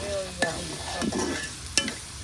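Whole garam masala spices such as cardamom, mace and nutmeg fry in a pan with a steady hiss, and a few sharp spoon-stirring clicks and scrapes cut through near the start, middle and end.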